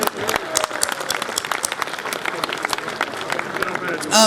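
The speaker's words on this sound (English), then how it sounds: "Let's give them a hand." An audience at a Franklin, Tennessee State of the City breakfast claps steadily for the Rotary Club Franklin, dense applause from a room full of people, rising slightly at the very end.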